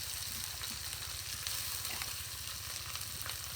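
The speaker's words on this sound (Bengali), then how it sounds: "এই যে কাঁচামরিচ পেঁয়াজ দিয়ে দিলাম" Green chillies and chopped onion frying in hot oil, a dense continuous sizzle with a low rhythmic crackle underneath and occasional stirring scrapes, steady and close with no talking.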